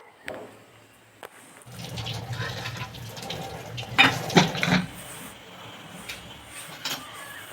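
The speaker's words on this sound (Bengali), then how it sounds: "চালটাকে ধুয়ে নিচ্ছি" Rice being washed by hand in a pot of water, with soft swishing and sloshing and some clinks against the vessel, close and fairly quiet, rising in the middle.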